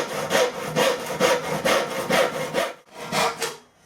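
A hand saw trims a wooden shoulder clamped in a tilting vise, about a dozen close, rhythmic rasping strokes back and forth, then a short pause and two more strokes, with no talking.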